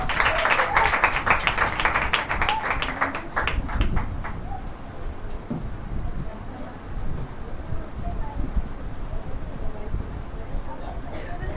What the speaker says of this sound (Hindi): आइए जोरदार तालियां परमेश्वर के दास के लिए